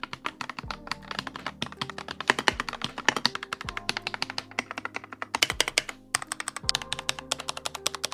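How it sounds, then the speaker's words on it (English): Rapid clacky keystrokes on a Keymove K98 full-layout mechanical keyboard, close up, with irregular bursts of typing and occasional louder thocks from larger keys. "this is the Keymove K98 mechanical keyboard"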